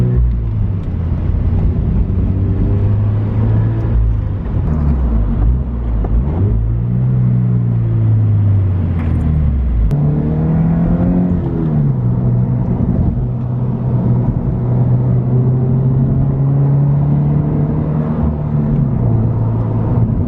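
A car drives toward the airport, a loud, continuous engine rumble that rises and falls through gear changes and shifts in speed, heard close and without any talk.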